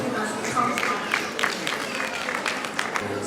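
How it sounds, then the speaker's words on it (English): Audience applause at a World Breastfeeding Week flag-off event as an official comes up to speak, steady clapping throughout with crowd noise and some talk underneath. "a round of applause for him as he comes up"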